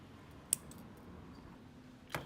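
Fishing line snipped with a small cutter while making a beaded necklace, two quiet sharp clicks about a second and a half apart in a hushed room.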